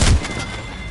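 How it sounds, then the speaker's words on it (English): A single heavy thump at the start, the bomb being neutralized in Apex Legends, with a dull boom that decays quickly into a low rumble and quiet game ambience, no voices. "Hear that? We neutralized the bomb."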